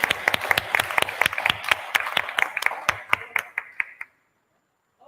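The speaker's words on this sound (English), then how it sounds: "Give yourselves a round of applause." A small group of students clapping, with distinct, slightly uneven claps that keep a loose rhythm and then thin out to a few scattered hands before stopping, leaving silence.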